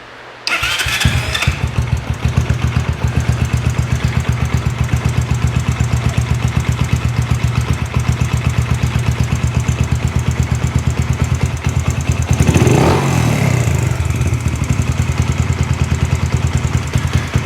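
A Yamaha Raptor 125 ATV with a fault of a very high idle and bogging down cranks and fires at once, then settles into a loud, steady, fast-running idle that holds close by with no one talking.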